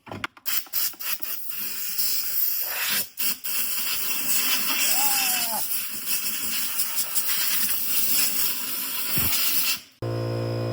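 Compressed air blasts gunk out of an engine part from a 1995 Ford F250, a loud, close, nearly continuous hiss with rattling clicks that cuts off just before the end.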